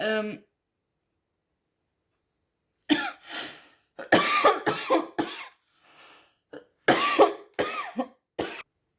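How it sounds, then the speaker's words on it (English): A burst of sharp, harsh coughs, several in quick clusters with short pauses between, close to the microphone after a moment of silence. "Excuse me for coughing"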